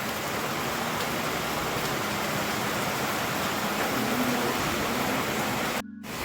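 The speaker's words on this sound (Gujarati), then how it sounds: "જો પાછો 4 વાગે વરસાદ ચાલુ થયો છે જોરદારનો" Heavy monsoon rain pours down steadily in Junagadh, a dense, even hiss of downpour filling the whole stretch before dropping out abruptly near the end.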